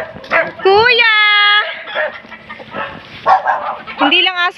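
A dog yelps and barks in high, whining bursts, with people talking over and around it nearby.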